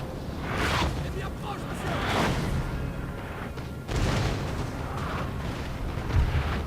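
Skirmishers in Napoleon: Total War opening musket fire on a battlefield, heard as rolling, muffled volleys and crackling bursts over a constant rumble of battle noise.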